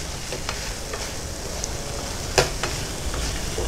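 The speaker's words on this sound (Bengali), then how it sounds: "অথেন্টিকভাবে বানাতে গেলে একটু মটরটা ফ্রাই করে" Boiled peas frying in spices in a pan for peas chaat, a steady sizzle with occasional stirring scrapes and one sharper clatter midway, close and alone with no talking.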